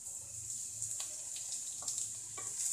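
Long strips of capsicum sizzle steadily in a hot pan while fried rice is being made, with a few brief stirring clinks over a continuous close hiss.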